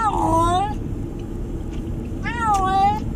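Lily the cat meows in a moving car on the way to the vet, two drawn-out wavering cries, one at the start and one near the end, over a constant low road rumble.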